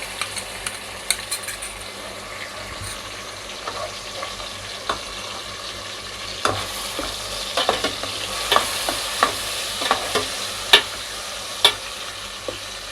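Garlic ginger paste sizzles in a pan of hot oil with whole black pepper, cloves and chillies for chicken korma, a steady close frying hiss broken by repeated sharp scrapes and clicks of stirring.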